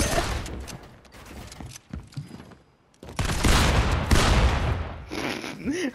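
Gunfire bursts from the video game Fortnite, with loud dense shots clustering around the second half after a quieter stretch, while a player talks over the action.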